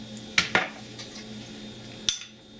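Pork is stirred with soy sauce in a bowl for jjajangmyeon: a few sharp clinks and scrapes of utensil against the bowl, clustered at the start and one more near the end, close and moderately loud with no talk.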